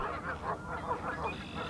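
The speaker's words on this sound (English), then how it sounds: "thanks to the geese, of course," Canada geese honking along the Bow River in spring, a dense, noisy chorus of overlapping calls in quick succession, fairly close and continuous throughout.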